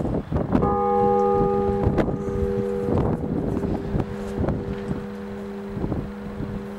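The third bell of the Santuario della Madonna del Pianto in Foligno, 92.6 cm across and about 518 kg, is struck repeatedly. Its bright, lingering hum rings over wind noise on the microphone.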